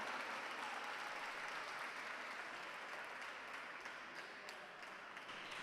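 An audience in the Argentine Senate applauding, a steady wash of many hands clapping at a distance, fairly faint and sustained without speech.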